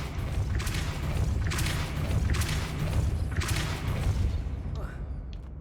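A spell cast in the video game Hogwarts Legacy, heard as a few booming whooshes and thuds over a dense, continuous game soundscape, spaced roughly a second apart and fading near the end.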